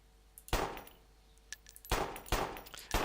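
Gunfire in the video game Freeman: Star Edge, with several sharp bursts of shots, a few separate cracks between them and short reverberant tails, quiet overall with no talk.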